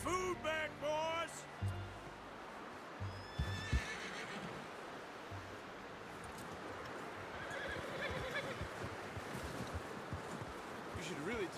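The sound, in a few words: horse neighing in Red Dead Redemption 2 video game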